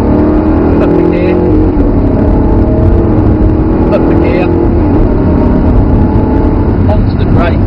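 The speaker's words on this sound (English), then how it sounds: "pick the power up, just drive the car out, use the revs, up the gear" An Audi R8 on a driving course pulls out of a hairpin under power, its engine droning loudly and steadily through rising revs, with an instructor talking over the constant engine noise.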